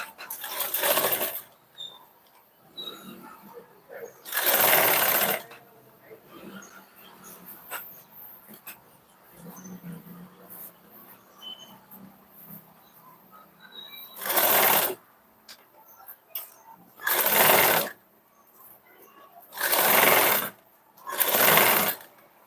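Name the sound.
sewing machine stitching blouse sleeve edge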